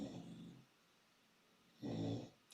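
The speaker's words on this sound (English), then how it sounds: "Sorry, all of my dogs are totally snoring." Dogs snoring indoors, two soft low rasping breaths separated by a quiet pause, faint and close.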